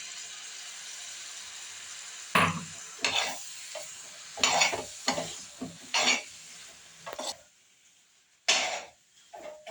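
Avial, a Kerala mixed-vegetable dish, being stirred with a few spoonfuls of curd in a cooking pot: intermittent scraping and clattering strokes separated by quiet gaps, with a soft sizzle underneath and a cough in the room.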